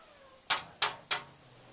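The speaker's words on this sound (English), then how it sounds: "You'd be entertained to hear a wicked cat fight in a moment." A brief cat fight: three sharp, hissing yowls burst out in quick succession, fairly faint and somewhat distant, with quiet between them.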